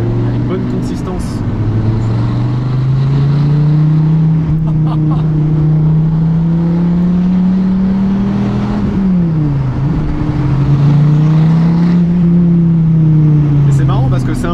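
A loud naturally aspirated 654-horsepower Dodge Viper ACR engine drones steadily with a deep, rising and falling tone, revving up and easing off as it drives.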